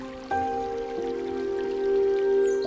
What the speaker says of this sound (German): Nicht weit entfernt fällt Regen